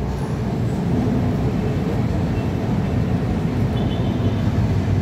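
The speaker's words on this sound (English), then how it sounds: "And let me show you the train first." A train passing near Ayala Malls Feliz at night, a steady loud low rumble with broadband roar that holds evenly throughout, with no talk.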